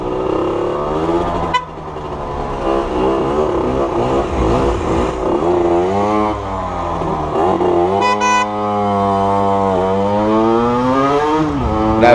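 A 50/70cc scooter engine fitted with a Voca Rookie exhaust, revving loud and close in town with rising and falling pitch sweeps as the throttle is worked repeatedly.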